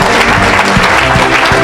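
Church congregation applauding and cheering for Jesus during a service, a dense, steady wash of clapping that fills the room without pause.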